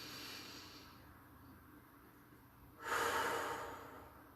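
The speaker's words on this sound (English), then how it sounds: "Breathe deep right into the stomach, allowing the stomach to come out as we breathe in." A slow, deep inhalation drawn into the belly during a guided relaxation, fairly quiet and close, rising into a louder rushing breath near the end; no talking.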